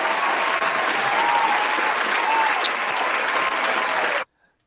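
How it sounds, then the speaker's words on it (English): Dense, steady applause from a crowd fills the space at full loudness for about four seconds, then cuts off abruptly into silence. "So round of applause for you guys for subbing."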